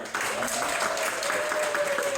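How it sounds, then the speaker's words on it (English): Audience at a live theatre show applauds a performer, brisk sustained clapping from a room of people with a cheering voice riding over the top, even and close throughout. "And applause for Mark."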